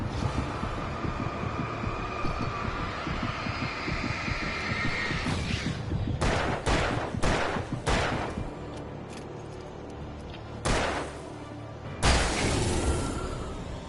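Several sharp gunshots in Alan Wake Remastered ring out over a low rumbling ambience, a burst of three or four close together followed by two more spaced-out shots, loud and near.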